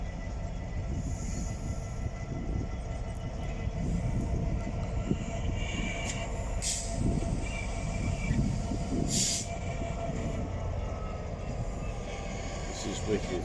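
On a model railway layout, a train rolls past with a continuous rumbling, clattering run that rises and falls, while voices murmur in the background.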